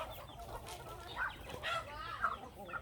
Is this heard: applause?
no